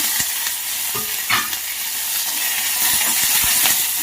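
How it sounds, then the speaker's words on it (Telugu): Red chillies and curry leaves frying in a pan over low heat for a coconut beans stir-fry, a steady close sizzle with scattered pops and crackles throughout. "మంట సిమ్లో పెట్టుకొని ముందుగా కట్ చేసినటువంటి రెడ్ చిల్లీ, 2 మిరపకాయలు, కరివేపాకు"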